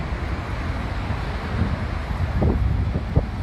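Steady wind roars across the microphone, a broad continuous rush with a few faint knocks underneath.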